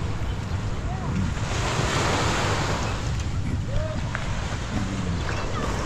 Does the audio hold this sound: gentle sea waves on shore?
yes